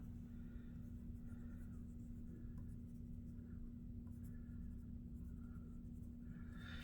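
Graphite pencil shading a drawing on paper, a steady close scratchy rasp in repeated back-and-forth strokes over a constant low electrical hum.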